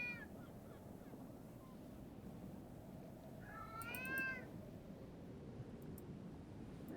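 Cat meowing in the video game Foolish Mortals: a faint meow at the start, then a clearer drawn-out meow midway over a soft steady ambient background, with no speech.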